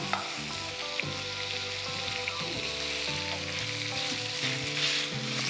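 Chilli paste frying in a pan while mutton rogan josh cooks, giving a steady, close sizzle with soft stirring clatter that runs unbroken throughout.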